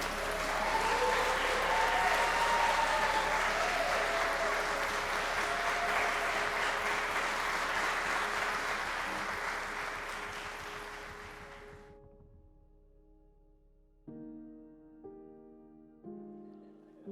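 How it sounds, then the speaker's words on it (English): Wedding guests at Lucknam Park applaud the new husband and wife with loud, sustained clapping that fades out after about twelve seconds. A few soft piano notes follow. "Would you like to give the new husband and wife a nice round of applause?"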